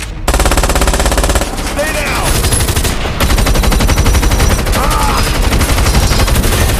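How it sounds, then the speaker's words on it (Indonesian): Loud, sustained automatic gunfire from a movie shootout with bank robbers, dense rapid bursts filling the whole stretch, with a brief voice or shout breaking through in the middle. "H kemudian melanjutkan baku tembak dan berhasil melumpuhkan beberapa perampok."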